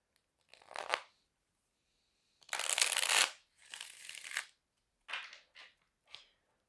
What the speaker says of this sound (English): I'm just going to start by shuffling the cards.